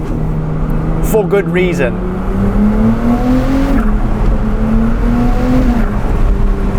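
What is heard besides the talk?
Novitec Ferrari 296 GTS twin-turbo V6 revving, turbo whistle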